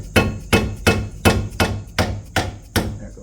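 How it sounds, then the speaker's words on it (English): A hammer beats a brake caliper clip through rust on a 2010 Ford Focus, eight loud, evenly spaced metallic blows about every 0.4 seconds, close and with no talking. "Just got to beat it through some rust."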